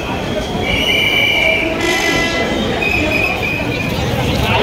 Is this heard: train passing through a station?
yes